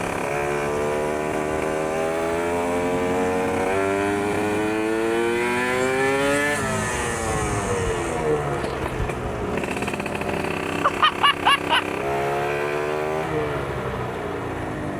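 A modified Suzuki Satria two-stroke motorcycle engine revving close by, a buzzy raspy note rising and falling in pitch through repeated throttle blips, loud and steady throughout with no talk.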